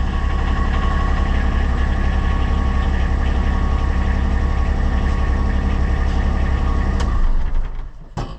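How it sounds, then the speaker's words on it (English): A Kubota RTV X1100C utility vehicle's engine runs steadily at idle after servicing, a loud, close, even drone that holds for most of the time before cutting off near the end. "we gotta go ahead and start it and run the engine"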